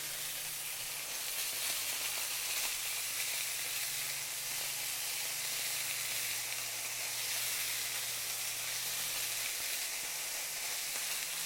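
Thin-sliced onions with red and green peppers sizzle alongside sausage in a pan, giving a steady, moderately loud frying hiss with light crackle that runs unbroken for over ten seconds, with a low hum underneath.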